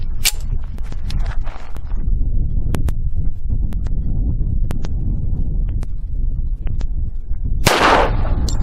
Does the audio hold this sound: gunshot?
yes